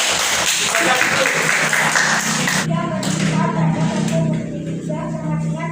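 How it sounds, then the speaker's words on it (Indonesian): Applause from a classroom group rings out for the first half, a dense burst of clapping that fades into voices talking and moving about. "beri tepuk tangan untuk Iam"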